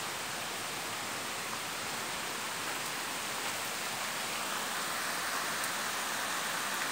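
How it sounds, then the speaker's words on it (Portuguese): Heavy rain falls on a small town in the Bahia backcountry, a dense, steady hiss that holds at an even level throughout with no voices. "está chovendo fortemente, não dá para sair para fora, né?"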